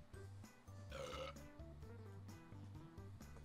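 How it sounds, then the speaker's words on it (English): A burping sound effect from the party drawing game Drawful 2, a single drawn-out belch over steady game music, fairly loud and alone with no talk. "Is that the game burping or was that somebody burping?"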